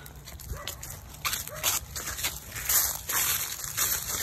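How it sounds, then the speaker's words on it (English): A dog near a pond or creek gives a few short barks and yips in quick succession over outdoor background noise, fairly close and moderately loud. "you scared me half to death, dog."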